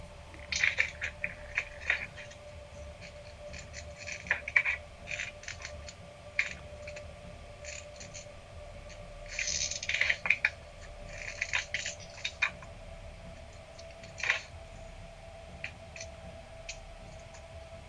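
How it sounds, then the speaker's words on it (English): Scattered clicks, snaps and rustling plastic-like handling noises of a hobby cutter being opened in its box come in irregular bursts against a quiet background with a faint steady hum. "Is that the cutter you're opening? Is that what all that noise is?"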